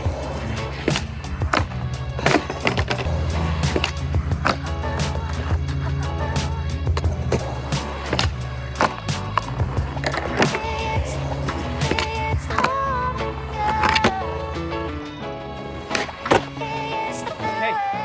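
Skateboard wheels roll over old concrete at a park in a continuous rumbling drone, with sharp clacks and thwacks of the board hitting the ground scattered throughout, close and fairly loud.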